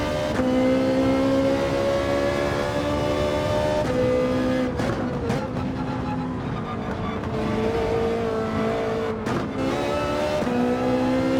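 A race car engine in Gran Turismo 7 revs and accelerates through gear changes, loud and close with shifts and brief lifts across a continuous drive, no talk.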